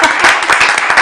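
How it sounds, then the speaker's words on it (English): Workshop audience applauding together, a dense, steady patter of many hands clapping close by that holds loud for the full second with no voices over it. "We can have a round of applause for all of us."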